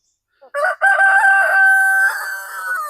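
A rooster in an aviary crows once, loud and close, a long strained cock-a-doodle-doo held for about two seconds.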